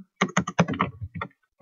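Rapid keystrokes on a computer keyboard while a message is typed into a Visual Basic program, close and distinct, in a quick irregular burst of taps with no talking.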